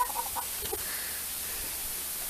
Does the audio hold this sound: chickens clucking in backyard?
yes